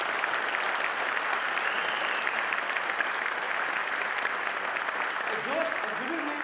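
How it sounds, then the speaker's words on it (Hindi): Continuous audience applause filling a hall at a motivational talk, dense steady clapping from many hands, with a voice speaking faintly over it near the end. "we must clap"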